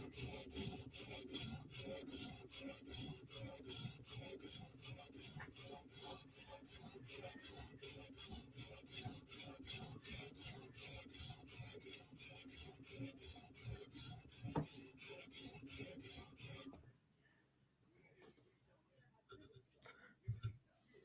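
Forward passes of a Chris Reeve Inkosi tanto knife bevel on a sharpening stone make fast, regular, close rasping strokes for about seventeen seconds, then stop, leaving a quiet room with a few soft handling noises.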